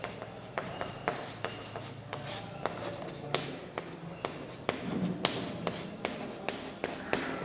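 Chalk or marker writing on a board during a maths lecture, a close series of sharp taps and scratchy strokes in an uneven rhythm, with no voice over it.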